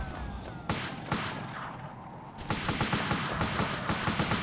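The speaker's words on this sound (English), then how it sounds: "because I've got headphones on, you can actually hear him launch the mortar" Gunfire and explosive launches from the Army Men: Land, Sea, Air game on PlayStation, with an enemy firing a mortar; a sharp thump, a few spaced bangs, then a rapid run of repeated shots.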